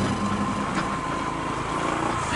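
A steady Honda ADV150 scooter engine runs throughout on a forest road in Chiba, a continuous mid-pitched drone with a faint whine, fairly close and without talk.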